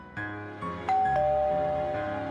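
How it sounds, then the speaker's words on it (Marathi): A doorbell rings with a few clear electronic chime tones that sustain and fade, loud over a faint steady background. "घंटी"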